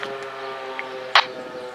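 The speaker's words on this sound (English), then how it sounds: "Wood County, Rudolph and Portage, sirens activated." An ASC T-128 civil defense siren being tested in Rudolph, Ohio: a steady tonal wail with layered harmonics holds throughout at a moderate level, broken by a brief brighter burst of noise near the end.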